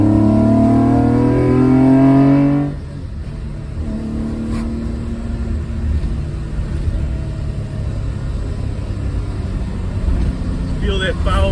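A BMW E30 carrying an M3 engine swap and a seven-speed DCT gearbox pulls hard from inside the cabin, engine note climbing in pitch before a sharp gear change, then a lower steady drone building again with drive-by-wire throttle.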